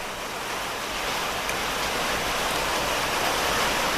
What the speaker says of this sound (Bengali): অনেক বৃষ্টি হচ্ছে আপনারা কিছু মনে করবেন না